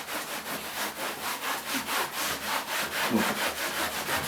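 Triplewax Diamond 3-in-1 textile cleaner is rubbed by hand into car upholstery fabric, a rhythmic back-and-forth scrubbing repeating about three times a second, close and fairly quiet, with a brief spoken word at the start.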